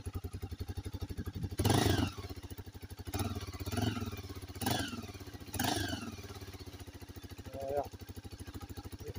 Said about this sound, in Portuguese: Dá uma aceleradinha aí, tem mais.